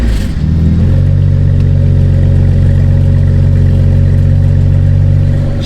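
A BMW 335i twin-turbo engine cranks and catches in the first second, then settles into a loud, steady, smooth idle heard up close, a deep even drone with no voices over it.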